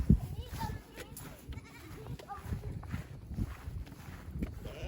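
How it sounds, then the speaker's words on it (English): Goats bleat on a farm where animals are being fed hay, with a few short, faint wavering calls and light breathy bleats under quiet background noise and nearby talk. "Oh, that's a baby goat."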